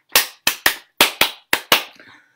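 Hand claps during a children's action song in a preschool story-time session, seven sharp, close claps in an uneven rhythm, the last one trailing off faintly.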